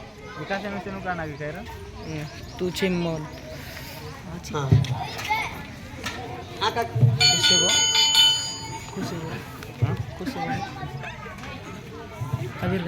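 A school bell rings for about a second amid lively children's chatter and shouting, with voices continuing around it.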